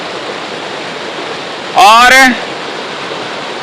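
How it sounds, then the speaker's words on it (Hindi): The fast-flowing Lastar river rushes past in a loud, unbroken roar, close and steady throughout, while someone briefly speaks over it. "लस्तर नदी का पानी इस प्रकार से आगे की ओर बहता हुआ, देखिए गति कितनी तेज है"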